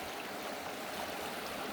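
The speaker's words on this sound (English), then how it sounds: "is Where the creek feeds in" A mountain creek near Mammoth Lakes rushes steadily where it feeds into a lake, a continuous broadband wash of flowing water close by with no voices.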